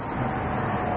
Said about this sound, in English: Whoa, that was the air from the truck.